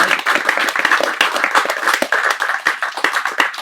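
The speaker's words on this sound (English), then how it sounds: "Let's give Lloyd another round of applause." Audience applause after a hybrid poetry reading at a poetry bookshop, a close, dense patter of many hands clapping continuously with slight rises and dips, no voices.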